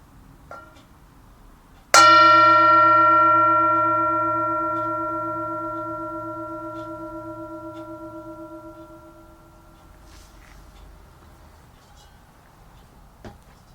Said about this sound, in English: First, the bell.